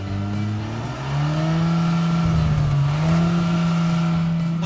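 A Hyundai Creta N Line with a dual exhaust idles with a steady, close engine drone, then revs up smoothly and holds a higher, throaty pitch before settling. No talking.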